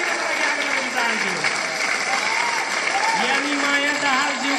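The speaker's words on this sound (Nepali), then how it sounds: "उहाँलाई फेरि एकचोटि तालीले बधाइदिनको लागि आग्रह गर्न चाहन्छु" Audience applause at a school annual day and Dashain-Tihar celebration: steady, dense clapping from a crowd lasting the whole stretch, with voices talking over it.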